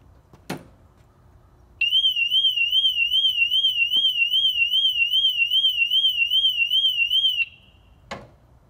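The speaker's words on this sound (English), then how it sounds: "when I take it off the kickstand and try and roll it, we should hear the audible siren" Factory alarm siren on a BMW R1200 GS motorcycle sounds a loud, warbling electronic tone for about six seconds. Brief clicks and knocks come before and after, with no voices.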